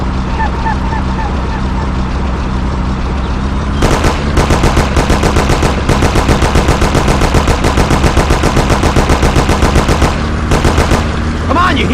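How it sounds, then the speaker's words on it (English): Thompson submachine gun in the game Mafia: The City of Lost Heaven, loud rapid automatic bursts repeating over a droning engine, with short pauses between volleys. "Take my Thompson. You and Sam shoot them."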